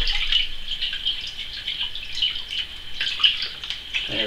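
Liquid pours steadily onto the top of a 23-litre sugar wash in a tub, a continuous splashing trickle with small surges, fairly close and with no talking.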